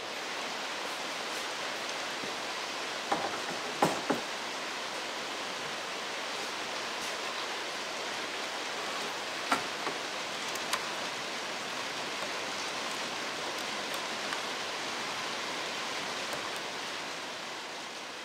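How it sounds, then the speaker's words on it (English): Steady rain hisses evenly throughout, a dense wash of falling water with a few sharper drips and taps near the start and middle. "How appropriate that this project is being bookended by rain."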